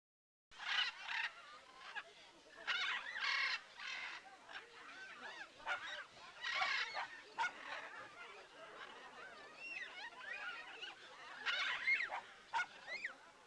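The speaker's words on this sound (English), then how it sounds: "I guess Pearly got separated from the other birds at some point." Birds in a 3DO video game honk like geese in repeated scattered bursts, fairly faint, against a quiet background.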